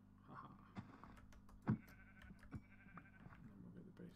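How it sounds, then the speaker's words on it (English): Sheep bleating in the Minecraft video game, a few short bleats over a quiet background hum with soft clicks and some faint talk. "Oh, look at that sheep."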